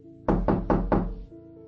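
Four firm knocks on a door in quick, even succession, close and loud, followed by quiet room tone with a faint television hum in the background.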